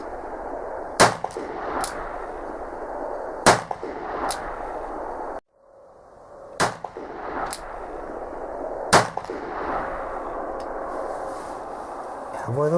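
An Uberti 1860 Army cap-and-ball revolver fires percussion caps in four or five sharp, loud cracks spaced a few seconds apart, with quiet handling sounds between them.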